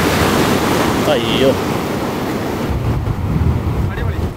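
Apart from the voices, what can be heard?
ocean waves at the Kozhikode floating bridge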